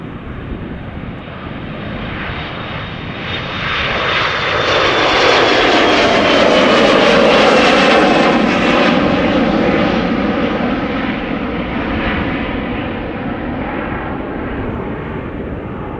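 A Qatar Airways Boeing 777 departing Schiphol for Doha, its engine roar loud and close, building to a sweeping peak midway as it passes, then easing off into a steady rumble.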